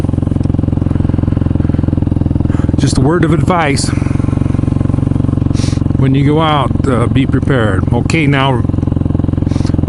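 A motorcycle fitted with ice studs idles steadily on snow with a loud, close, even engine drone throughout, while someone talks over it in several bursts.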